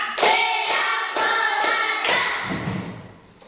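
A run of five or six firm hand claps at a steady beat in a classroom, near and loud, the last ones softening as the sequence fades out.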